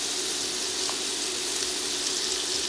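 Chicken sausage patties fry in an unevenly heated skillet with a steady, even sizzle that holds at the same level the whole time.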